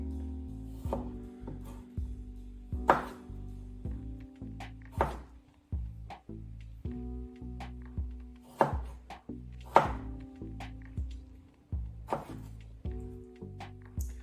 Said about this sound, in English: Next is we're going to quarter our cherry tomatoes and add them to our avocado.